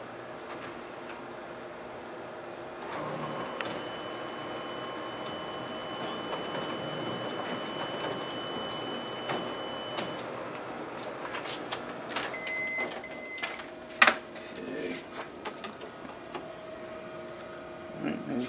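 A Ricoh MP C4000 colour copier runs off a couple of test copies with a steady mechanical whir, layered hums and intermittent clicks and clunks. The sound is close and continuous, with no talking.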